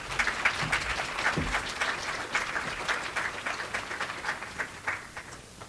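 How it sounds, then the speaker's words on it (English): Audience applause for award recipients at an elder advocacy and law boot camp, a steady round of many hands clapping at moderate level, with no talk over it. "let's give another hand clap for our award recipients"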